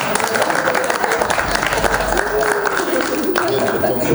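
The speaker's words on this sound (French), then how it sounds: "on peut encore faire un maximum de bruit et d'applaudissements s'il vous plaît" An audience at a film festival press conference applauds in a dense, continuous wash of clapping, with voices mixed into the crowd noise.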